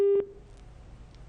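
A short electronic telephone line tone sounds briefly at the start as a call comes into a radio or TV studio phone-in show, then cuts off into quiet line hiss.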